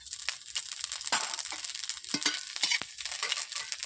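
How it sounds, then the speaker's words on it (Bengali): Two dried red chillies and five-spice seeds hit hot oil, giving close crackling and spitting bursts with irregular sharp pops and stirring scrapes, no talk. "এরপর দিয়ে দিচ্ছি দুটো শুকনো লঙ্কা, দিয়ে দিচ্ছি 5 ফোড়ন"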